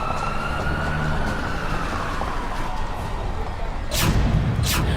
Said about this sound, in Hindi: एम्बुलेंस बुलाई गई।